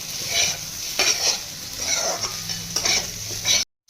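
Semolina upma vegetables fry with turmeric and chili powder on a high flame in a kadai, giving a steady close sizzle broken by repeated scraping strokes of a stirring spoon.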